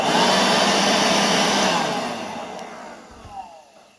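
A Parkside cordless vacuum cleaner switches on and runs with a steady broadband whirring hum, loud at first and then fading lower toward the end, with no voices over it.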